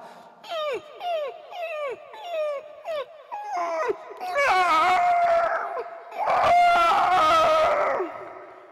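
A man on stage at a poetry gathering mimics puppies, first a series of short rising-falling whimpering yelps, then long drawn-out wavering howls, loud and close with no other sound.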